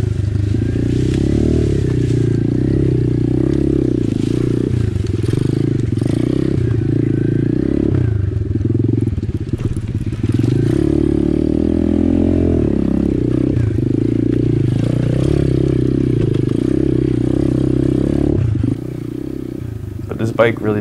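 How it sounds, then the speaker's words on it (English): An Apollo RFZ 125cc pit bike engine drones steadily as the small off-road motorcycle climbs a muddy single-track enduro trail uphill, with the revs wavering and faint clatter throughout, loud and close. "Bike really does surprisingly well trying to do all this riding"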